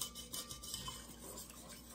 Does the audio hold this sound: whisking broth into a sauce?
yes